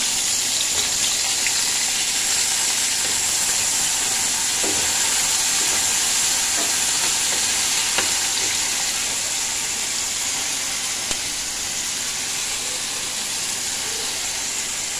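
Onion, chili, potato and beans frying in oil in a pan after bay leaf: a constant bright sizzling hiss, loud and close, with faint occasional clicks and no talking.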